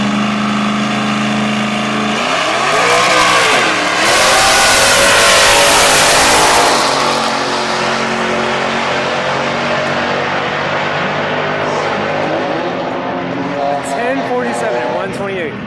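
Drag race cars launch and accelerate down a quarter-mile strip, including a Buick on rear slicks, with loud engines revving and swelling into a roaring pull that slowly fades into the distance, while a voice talks over it.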